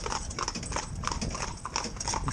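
Hooves of four young, green ponies pulling a carriage on a road, a busy overlapping clip-clop of many rapid hoof strikes mixed with rattling harness and wheels, close and continuous.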